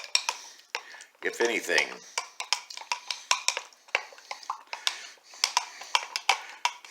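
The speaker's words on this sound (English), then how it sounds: "So let's see what happens to it once we stir it up" A utensil stirs infused cannabis syrup, made with gums, in a container, producing quick, uneven clinks and scrapes close by, with a brief murmur of speech among them.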